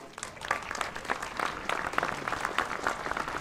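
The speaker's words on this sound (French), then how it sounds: "je crois qu'on peut l'applaudir" Audience applause at a speech honoring a young designer, steady scattered clapping from a modest crowd, moderately faint and continuous with no talk over it.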